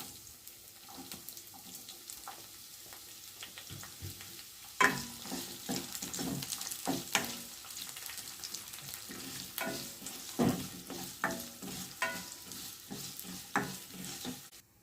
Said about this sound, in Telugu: అవి వేగిన తర్వాత ఉల్లిపాయలు, పచ్చిమిర్చి వేసుకోవాలి.